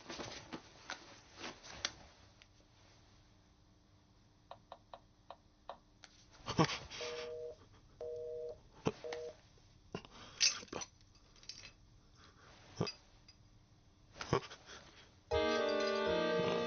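A telephone rings in a restaurant kitchen during a film scene: three short paired electronic tone bursts stand out among scattered clicks and clatter, with brief voices nearby.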